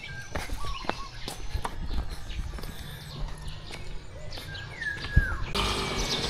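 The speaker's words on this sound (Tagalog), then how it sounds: "Daming ibon oh." Birds chirp and tweet outdoors beside a tennis court in Camiguin, scattered calls and short whistled notes over a busy background with some thumping footsteps and handling noise.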